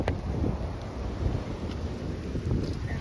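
Steady gusting wind buffets the microphone on an open golf course, a constant low rumble that swells and eases slightly, with no talk.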